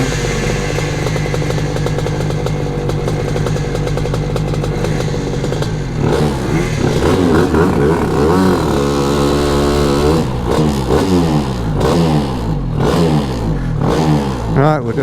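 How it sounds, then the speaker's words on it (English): A motorcycle revs at the start line of the Sturgate drag sprint, a steady idle and blipping throttle giving way to a loud, rising launch roar with gear-change steps as it pulls away. "See if we can launch without a draggy clutch."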